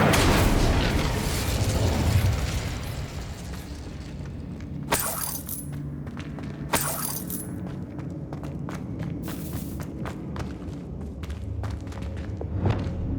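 Incendio fire spell cast in Hogwarts Legacy on PC: a loud opening burst of flame fading over a couple of seconds, followed by sharp cracks, mechanical clatter and footstep-like sounds through quieter game ambience.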